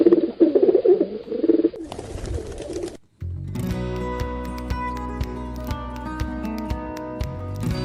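Soft pigeon cooing in the first seconds, followed by a burst of noise and then steady layered music with a low pulsing beat.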